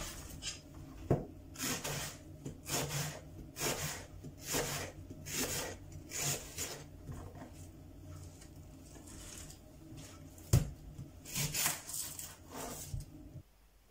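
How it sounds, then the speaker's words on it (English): A knife slices through onions on a board in a quiet kitchen, giving a series of soft, rhythmic chopping strokes in short bursts with brief pauses, close and faint. "So I just now finished cutting the onions."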